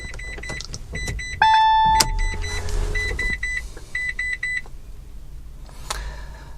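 A 2011 Peugeot iOn electric car starting up, with a series of electronic beeps and chimes followed by a steady tone and soft whirring from the systems, a few more beeps fading out near the end.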